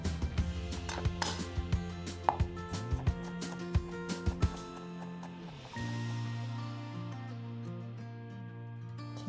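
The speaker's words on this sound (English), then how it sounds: "Cut the spinach in half if they are too long." A knife chops spinach on a cutting board for small-batch japchae, with a run of sharp, irregular close-up blade knocks. They stop partway through and leave a steady low hum.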